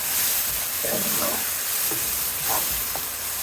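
Masala with grated tomatoes stirred in hot oil for Kathiyawadi waghareli khichdi gives a continuous loud sizzle, with a few scraping stir strokes rising above the frying hiss.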